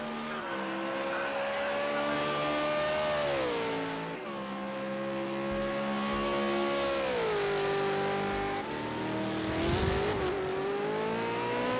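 A V8 Supercar from the Super2 series in a racing game sweeps around a Long Beach street-circuit corner past the fountain, its engine droning steadily through long downshifts and climbing revs, with a brief tire scrub near the end.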